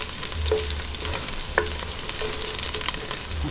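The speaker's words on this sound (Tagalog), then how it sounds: "Ngayon po, umpisahan na po natin yung paggigisa. Ayan, lagay natin ang bawang." Chopped garlic sautés in hot oil in a pan for a Filipino ginisang monggo, a steady soft sizzle with a few light stirring clinks, no voices.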